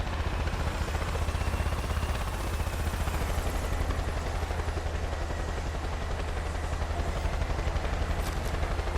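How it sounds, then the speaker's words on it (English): A helicopter flies around in the video game Far Cry 5, its rotor thudding as a loud, steady drone that holds throughout with no speech over it. "There's an enemy flying around with a helicopter."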